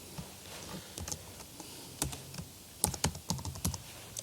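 Keys clack on a computer keyboard in short irregular bursts, close and moderately loud, with no voices over them.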